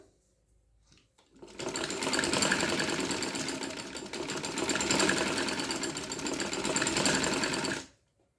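A sewing machine runs steadily for about six seconds, stitching dori piping onto the edge of a kameez. It starts abruptly and stops abruptly, with a loud, close, continuous mechanical whir. No one speaks.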